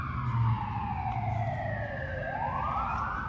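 Emergency vehicle sirens wail through a city downtown, a continuous sweeping tone rising and falling over steady traffic rumble, fairly loud and without voices.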